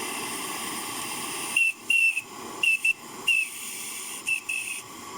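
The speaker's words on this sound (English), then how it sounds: "It whistles really nicely" A homemade pressure whistle fed with steam lets out several short, shrill blasts in an uneven rhythm over a constant loud hiss, loud and close.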